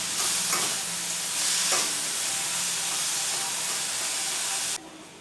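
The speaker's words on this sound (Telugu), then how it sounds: "టమాటాలు మగ్గేంత వరకు వేయించుకోవాలి" Tomatoes and tamarind frying in a kadai for a mint chutney make a loud, dense, continuous sizzle with a brief stir partway through, then the hiss cuts down sharply just before the end, with no talk.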